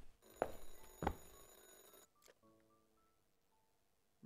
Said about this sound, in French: là je dois répondre au téléphone pour...